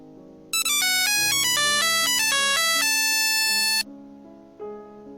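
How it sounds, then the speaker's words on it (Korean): A phone rings with an incoming call, its loud melodic electronic ringtone playing for about three seconds over a soft background bed before cutting off. "한 통의 전화가 왔습니다"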